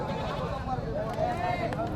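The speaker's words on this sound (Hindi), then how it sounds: "बहुत सारा यहाँ पे आप देख सकते हैं खाली बकरियों का ही मैं आवाज़ सुनाई दे रहा है" Goats bleat repeatedly at a busy livestock market in Jharkhand, with wavering cries rising over a steady crowd murmur and someone talking close by.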